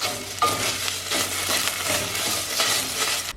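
Tomato paste being stirred into bean soup in a pot, a steady scraping and sizzling texture of spoon against pot, close and continuous with no talk.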